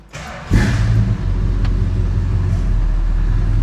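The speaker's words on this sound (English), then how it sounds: "So let's fire the car up" A 1973 Mercury Cougar engine cranks and catches, then settles into a steady, loud idle rumble close by.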